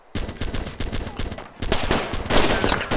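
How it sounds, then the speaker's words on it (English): Rapid bursts of gunfire crackle in the survival game DayZ, loud and close, with a brief pause before a denser, heavier volley erupts in the second half. "Oh, he's shooting me!"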